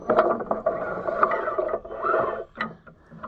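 A wrench tightens a bolt on the marker valve of a tractor planter, making quick ratcheting clicks and metallic scraping in short, close bursts.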